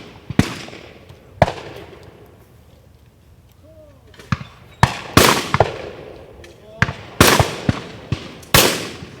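Shotgun blasts ring out at a sporting clays tournament at the Greater Houston Guns Club: about ten sharp, loud reports, some in quick pairs, separated by quieter outdoor background.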